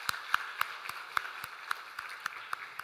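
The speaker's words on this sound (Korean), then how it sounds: "우리 박수로 격려하도록 하겠습니다." Church congregation applauding after newly appointed deacons are proclaimed during a Sunday service at a Korean church in Samcheok, a thin, fairly distant patter of claps with a few sharp, prominent hand claps standing out in an uneven rhythm.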